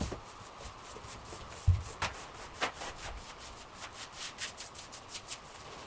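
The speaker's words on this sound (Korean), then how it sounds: "정배솔로 잘 펴줍니다." A wallpaper brush sweeps over freshly pasted wallpaper on a wall, giving soft, repeated brushing and rubbing strokes at close range, quiet, with a few light knocks between the strokes.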